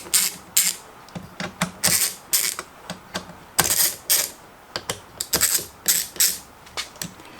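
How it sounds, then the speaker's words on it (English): An Allen wrench working the mount of a fishing boat transducer, producing a run of sharp close clicks and ratcheting taps in irregular bursts, loud and without talk. "grab our Allen set, and we're going to very slightly loosen it up"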